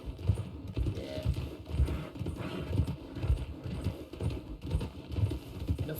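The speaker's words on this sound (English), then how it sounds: "Nothing wrong with a fast horse." A fast horse gallops in Red Dead Redemption roleplay, its hooves thudding in a steady, rapid clip-clop rhythm. The hoofbeats are moderately loud and close, with no talking.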